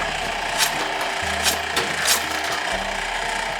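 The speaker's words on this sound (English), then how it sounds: "This is my Harbor Freight combination sander." A Harbor Freight combination sander works on wood with a rough, scratchy rasp and several louder swipes over a low motor hum, moderately close.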